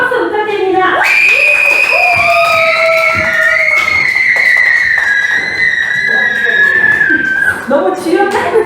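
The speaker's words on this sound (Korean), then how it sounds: "우리 오늘도 우리 율동쌤들 한번 모셔볼 텐데 큰 박수 부탁드립니다." Children at a church vacation Bible school let out long, loud, high-pitched cheers that rise and hold for several seconds, with scattered clapping and a busy, close crowd underneath.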